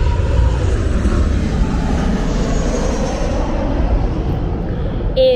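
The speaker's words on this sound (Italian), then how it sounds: "scusate, sta passando un aereo." An airplane passes overhead outdoors, a steady broad roar that holds loud and even for several seconds with no voices over it.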